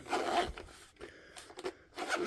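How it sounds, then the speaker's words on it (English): A zipper on a small folding knife case is pulled closed in a few quick, close, soft rasping strokes with brief pauses between them. "Comes a nice little folding case like that and a zip on it. Zip it up like that."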